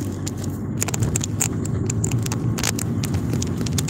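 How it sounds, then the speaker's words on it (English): A car drives through Seaton Village in Antigua in the early morning, with a steady low road rumble and engine drone heard from inside and light rattles over it. "I'm driving through Seaton Village."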